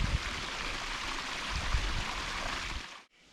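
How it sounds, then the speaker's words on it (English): Mineral Springs waterfall in North Dakota pours in a broad, steady rushing roar heard from the top, constant and close until it cuts off abruptly near the end. "here is a view from the top of this amazing waterfall"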